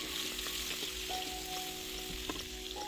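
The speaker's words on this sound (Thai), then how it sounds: "เพื่อเอาไปผัดกับ น้ำมันเพื่อให้มันสลดลงเล็กน้อย" Cucumber pieces sizzle steadily in hot oil, a continuous crackling fry with occasional soft scrapes and clinks of stirring, no voices.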